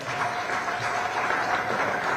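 Audience applause at a results release event, a steady wash of clapping from a crowd, fairly loud and continuous with no gaps.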